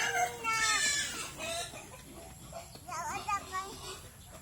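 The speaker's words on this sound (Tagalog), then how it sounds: "Ang sabi ng chicken?" Chickens clucking with rooster-like calls on a Bicol province farm, close and loud, mixed with a voice.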